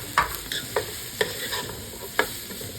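Onions and capsicum sautéing in oil with a little garlic, a steady sizzle broken by several sharp spoon clinks and scrapes against the pan at an uneven rhythm.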